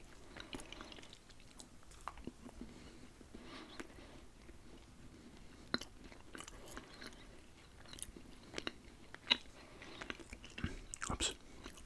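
Quiet, close chewing and crunching of sweet, chewy Anzac biscuits, with soft irregular bites and mouth sounds spread steadily through the whole stretch at low level.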